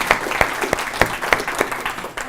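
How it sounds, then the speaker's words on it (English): Audience at an awards dinner claps in a short burst of distinct, fairly close hand claps that form a loose, uneven rhythm without speech. "Give him a clap now."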